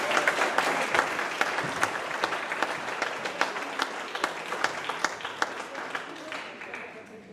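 Audience applause welcoming a singer onto the stage at a 2016 event in Meda, a full crowd clapping with crisp individual claps standing out, gradually thinning and fading away near the end.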